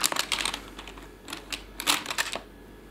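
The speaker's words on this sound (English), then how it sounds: "So I can type using the keyboard, as you can see here." Typing on a USB keyboard connected by an OTG cable to a Samsung Galaxy Note 3 phone, a close run of quick, uneven key clicks in bursts with short pauses.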